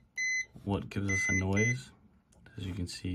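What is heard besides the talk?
continuity tester beep when probes touch ground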